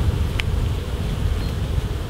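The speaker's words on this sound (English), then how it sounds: "the bees just moving about. There's a lot of bees in here." Honeybees move about inside an open, gentle hive during a UK hive inspection, a steady low buzzing hum close to the microphone, with one brief brighter tone rising above it.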